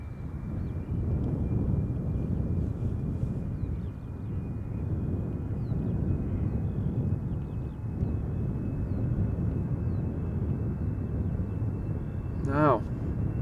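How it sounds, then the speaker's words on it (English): A 14-year-old EasyJet Airbus A319 departing Schiphol Airport for Manchester produces a steady, distant jet roar mixed with wind rumble that holds throughout, with a brief high chirp near the end. "A319 EasyJet going to Manchester. Flight 27853, 14 years old. First flight September 2009. and it is already on the move."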